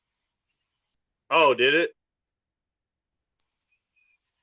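Cicadas drone in high, faint bursts behind a short spoken line, buzzing in separate pulses at the start and end with silence in between.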